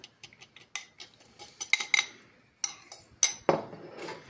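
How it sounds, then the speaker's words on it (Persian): A spoon scrapes and clinks against a bowl in irregular strokes, mixing crushed biscuits with melted butter for cheesecake, with sharper taps near the end and no talking. "با یه قاشق"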